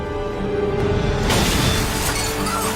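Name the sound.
explosion in a Captain America movie scene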